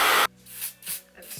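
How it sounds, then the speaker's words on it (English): Hairspray sprayed directly onto a wig hairline: one loud, close aerosol burst opens, followed by two or three softer short hisses with brief pauses between them. "and then we gonna spray. Literally directly on the hairline."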